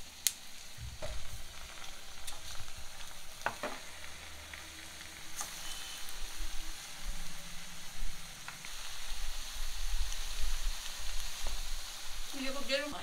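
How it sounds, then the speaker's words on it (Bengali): Food frying in hot ghee and white vegetable oil, a continuous crackling sizzle with occasional stirring clinks and scrapes close by, no talking. "ঘি আর সাদা তেল গরম হোক"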